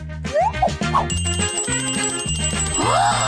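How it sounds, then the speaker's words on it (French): A bright electronic ringtone chimes over a playful cartoon-like melody, with short rising boing-like tones scattered through the loud, busy mix. "Une sonnerie."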